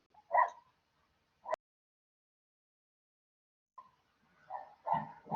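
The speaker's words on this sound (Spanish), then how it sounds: "Mi perrito se emociona cada vez que doy clase." A small pet dog barks indoors during an online class, a few short separate yaps spaced apart with a quiet gap between, then a quicker cluster of barks at the end, fairly faint.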